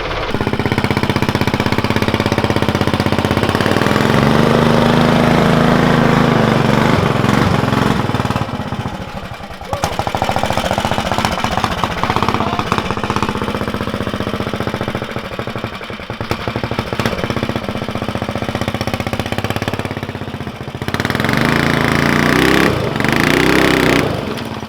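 Utility mule vehicle's engine chugging and revving loudly while it tows an amphibious Argo 8x8 with no brakes, steady mechanical rattle and drone with brief dips in power.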